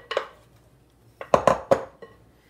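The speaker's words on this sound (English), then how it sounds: "Just mix it with a spoon." A spoon stirs banana bread batter in a mixing bowl, giving a few brief clinks and scrapes: a pair of knocks near the start, then a quick cluster of louder taps after a short pause, close and fairly quiet.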